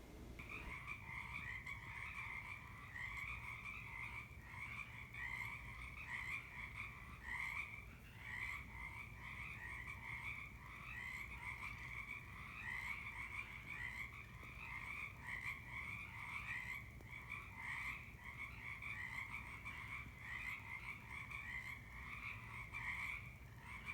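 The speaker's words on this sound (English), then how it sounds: "And then the chorus of frogs really began." A dense chorus of frogs croaking in the evening, steady pulsing calls layered over each other without pause, moderately distant and continuous, with no voices.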